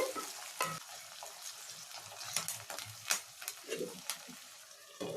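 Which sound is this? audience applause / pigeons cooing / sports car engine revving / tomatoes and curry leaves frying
tomatoes and curry leaves frying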